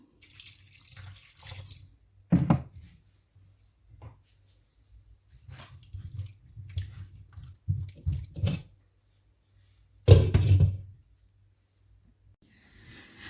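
A cup of water goes into a pan of tomato, onion, garlic-ginger paste and oil for a cheesy koila karahi, with short splashing pours and the clearest bursts early on and near the end, set among quiet, scattered kitchen noises.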